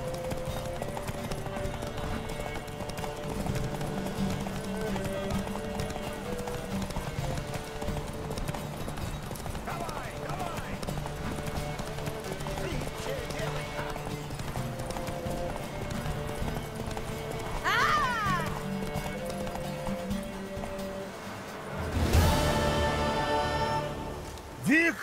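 Horse galloping in The Witcher 3, a steady rhythmic clip-clop of hooves over game music, with a neigh late in the run.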